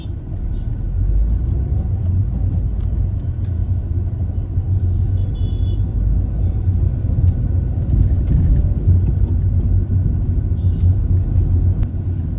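A car drives on the road out of Salem, and a loud, steady low rumble of engine and tyres fills the cabin without a break.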